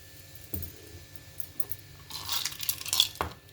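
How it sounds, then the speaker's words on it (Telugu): Soda poured into a glass holding strained mint and lemon mixture, a fizzy hiss rising in the second half after faint clinks, close and fairly quiet with no talking. "సోడా పోసేస్తున్నాను"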